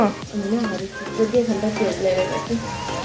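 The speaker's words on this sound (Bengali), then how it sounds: "আমার মেয়েকে আলু ভাজতে দিয়েছি দেখি কি করছে" Potatoes frying in hot oil in a home kitchen, a close, steady sizzle with crackling bursts, heard beneath a speaking voice throughout.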